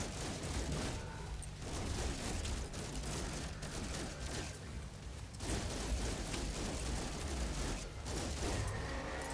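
Sustained gunfire from a firefight in the video game No Man's Sky, a dense, continuous crackle of shots with a few louder bursts, steady and loud throughout.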